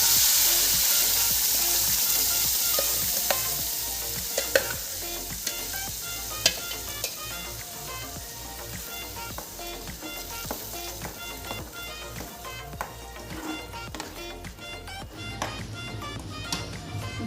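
Gravy paste for a restaurant-style chicken butter masala hits a hot pan and sizzles loudly, settling into a steady bubbling fry with occasional spoon taps and stirring scrapes throughout.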